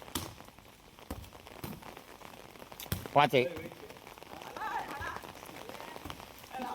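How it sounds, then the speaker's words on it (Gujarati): Rain pours steadily in a Gujarati village during a children's volleyball game, a soft constant hiss with a sharp knock near the middle, while voices talk over it. "વરસાદ હજી સાંટા ચાલુ જ છે."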